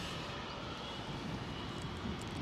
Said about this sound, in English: Next plane in is a Ryanair.